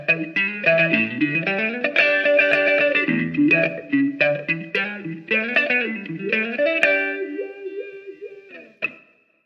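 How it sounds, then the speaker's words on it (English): An Eventide effects pedal's vowel filter on an electric guitar, swept with an expression pedal so the sustained notes glide between two vocal-like vowel tones, a loud, continuous melodic line fading out at the end. "a sound that allows you to set two different vocal vowel sounds. And then you can use an expression pedal to smoothly transition between those two sounds."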